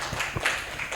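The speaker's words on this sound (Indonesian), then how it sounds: "Kita berikan tepuk tangan dulu untuk temannya yang sudah berani maju." A classroom of students gives a short burst of applause for a classmate who came forward, scattered claps spread across a second with no voices over it.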